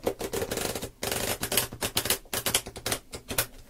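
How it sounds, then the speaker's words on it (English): Tarot cards are shuffled by hand up close, quick bursts of riffling and slapping card clicks in an uneven rhythm with brief pauses between, and no voices. "I'm going to shuffle just like a little bit over here."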